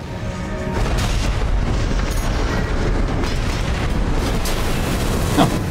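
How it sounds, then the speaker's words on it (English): Heavy booming blasts from grenades detonating in the mech combat game Armored Core VI, a dense continuous rumble with a sharper burst near the end, loud and close, no voices. "All it takes is a couple grenades."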